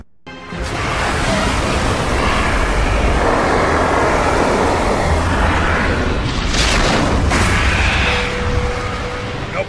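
Helicopters and explosions roar in the Gears of War 3 video game as a dense, continuous wash of engine and blast noise, loud and sustained for nearly ten seconds, with brief sharper bursts partway through.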